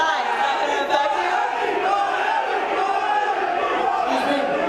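A loud crowd at the UFC 205 press conference roars and chants continuously, a dense wall of voices and cheering that holds steady throughout without a break.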